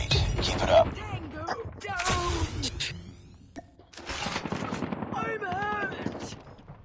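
Rapid SMG bursts crackle in an online shooter match, coming in two clusters separated by a brief lull, mixed with game voice callouts and player chatter.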